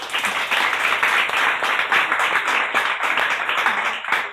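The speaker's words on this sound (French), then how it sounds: "Alors, cher public, on applaudit." A French television studio audience applauds, a dense continuous wash of many hands clapping, loud and sustained throughout with no talking.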